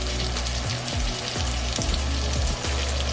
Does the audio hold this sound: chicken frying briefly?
yes